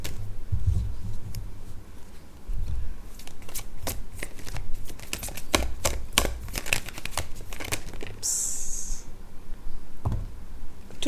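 A deck of tarot cards is shuffled by hand, giving a long run of crisp riffling clicks and soft flutters, followed by a brief brushing sound near the end.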